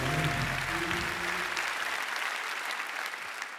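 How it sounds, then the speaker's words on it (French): Comedy-festival crowd in Montreux applauding and cheering for comedian Alger, a loud dense wash of clapping and voices that carries on steadily before easing slightly. "Mesdames et messieurs, faites un maximum de bruit pour Alger"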